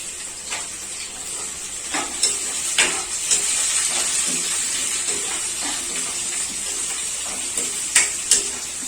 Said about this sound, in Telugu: ఆయిల్ బాగా వేడైంది కదా, అప్పుడే ఫ్రై అయిపోయినాయి.